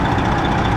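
A heavy diesel truck engine with a busted water pump runs steadily at raised revs, a continuous loud rumbling drone up close with no talking.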